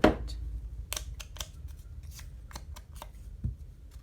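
Scissors trim paper for a journal up close: a series of crisp snips and rustling paper contacts, spaced irregularly over a few seconds.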